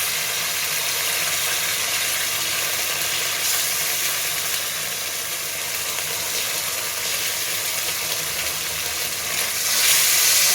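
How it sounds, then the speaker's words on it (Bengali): Egg chilli with green chilli sauce and tomato sauce sizzles loudly and steadily in a frying pan as it is stirred, a dense close hiss that swells slightly near the end, with no voices. "ভালো করে নাড়িয়ে নেব।"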